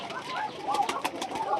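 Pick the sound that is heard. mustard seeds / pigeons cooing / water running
pigeons cooing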